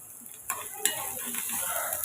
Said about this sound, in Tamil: உப்புக்கு வெங்காயம் சேர்த்து இதை நம்ம வதக்கி எடுத்துக்கலாம்